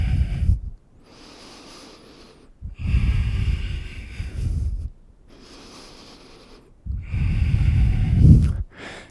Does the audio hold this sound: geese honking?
no